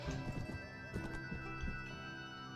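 Horse hooves clip-clop at a steady trot in the medieval game Mount & Blade Warband, with a brief neigh mixed into the busy game audio.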